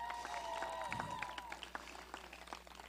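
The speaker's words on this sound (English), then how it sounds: "Give them a nice round of applause." Scattered clapping rises at an outdoor girls' tennis end-of-season picnic as award runners-up are recognised, fairly faint and sparse with some chatter and a few whistle-like tones in the background.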